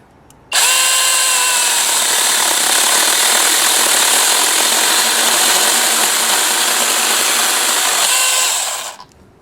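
A NaTiddy cordless 6-inch mini chainsaw cuts through wood with a loud, steady, high-pitched motor whine that starts abruptly, holds for about eight seconds and then cuts off, close up with no talking.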